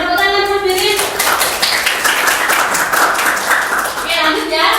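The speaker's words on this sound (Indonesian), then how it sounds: "Berikan tepuk tangan Mas Berin." A small group claps together during a teaching session on workplace safety equipment, a brisk burst of hand claps lasting about three seconds, framed by a voice speaking at the start and end.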